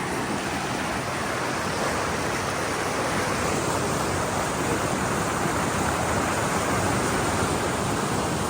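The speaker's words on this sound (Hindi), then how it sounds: "चश्मे आ रहे हैं यहाँ पे, देखिए चश्मा, चश्मे का ये सारा पानी है" Spring water from a mountain source near Gilgit rushes in a steady, loud, unbroken wash of flowing water, constant throughout with no voices.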